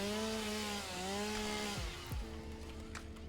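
A video-game chainsaw buzzes at a steady pitch while cutting trees, its tone dipping and recovering as it bites in, with short knocking impacts near the end; loud and close, no talk.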